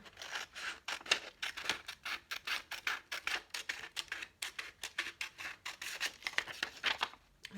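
Scissors cut out a paper pattern for a cloth face mask with a steady rhythm of close, crisp snips and rasping strokes, about two per second, and no talking.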